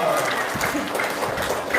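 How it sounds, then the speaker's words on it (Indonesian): A seated crowd at a religious gathering claps in a steady, moderately loud patter, with voices audible underneath. "Tepuk tangan dong."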